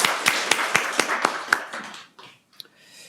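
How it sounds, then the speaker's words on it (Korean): Church congregation clapping together in a Sunday worship service, a burst of loud, fairly regular claps, about seven sharp beats, before it trails off into scattered taps and quiet. "우리 모두 하나님께 영광의 박수를 한번 올려드립시다."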